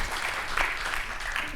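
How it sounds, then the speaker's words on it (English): Audience applause after a conference talk on microservices testing, a dense, steady wash of many hands clapping at close range, continuous throughout. "Let's have a huge round of applause"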